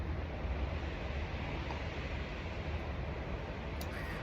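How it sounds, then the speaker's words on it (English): Wind buffeting a microphone outdoors, a steady low roar that stays at one level throughout, with no talking. "I know it's windy, and so y'all are dealing with maybe some sound interference"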